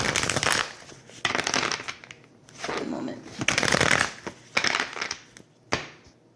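Tarot cards being shuffled by hand in short bursts, crisp riffling and sliding sounds close to the microphone, separated by brief pauses, with no talking.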